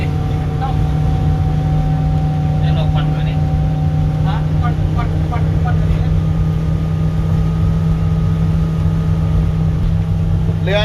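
A motorboat engine drones loud and steady throughout with a strong low hum and tonal bands, while voices talk over it in bursts.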